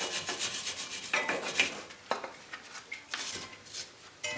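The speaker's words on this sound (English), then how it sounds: "take a wire brush and you clean the dirt off of the threads of this nut" Wire brush scrubbing dirt off the threads of a strut nut on a Chevy HHR, a close, rhythmic series of rough scraping strokes with no talking.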